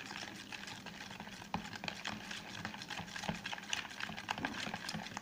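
Close, continuous wet stirring and slapping of egg batter being mixed with soybean oil in a bowl for an egg pitha, with irregular soft clicks of the utensil and no one speaking.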